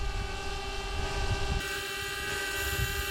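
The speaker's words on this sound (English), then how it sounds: "And this thing is a loud drone for sure." A DJI Mavic Air drone flies close by, its loud, steady propeller whine holding strong tonal bands over a rough low rumble for the whole stretch, with no voices.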